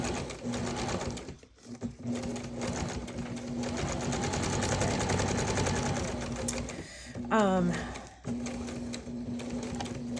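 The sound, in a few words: sewing machine stitching a zigzag stitch on a journal tag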